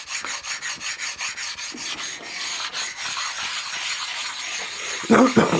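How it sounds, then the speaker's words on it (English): An oiled sharpening stone rubs burrs off the bed of a milling machine, making a steady rhythmic rasping that repeats back and forth at an even pace. It ends with a louder, rougher scrape. "And I use a stone to take them off."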